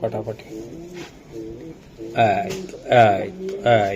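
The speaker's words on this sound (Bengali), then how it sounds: "এই যে ভাই আরেকটা কবুতর" Racing pigeons at a club sale coo in short repeated bursts close by, while people talk over and between the calls.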